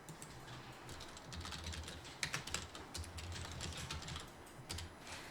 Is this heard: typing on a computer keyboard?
yes